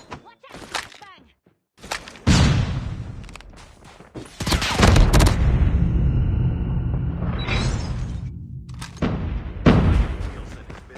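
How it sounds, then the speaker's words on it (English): Flashbang blasts and bursts of gunfire in a Call of Duty Mobile multiplayer match, with loud explosive booms followed by sustained roaring rumble and sharp cracks, close and heavy, with game voice callouts in between. "Watch out! Flashbang!"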